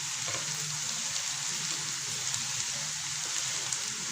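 Ginger, garlic and onion frying in a pan, giving a steady bright sizzle like light rain that holds evenly throughout with no voices.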